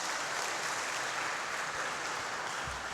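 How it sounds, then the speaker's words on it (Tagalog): Congregation at a Mass for the Solemnity of All Saints claps in steady, dense applause that fills the whole stretch at a moderate, even level, with no voices standing out. "Bigyan natin mahal ng Panginoon isa pang malakas na palakpak."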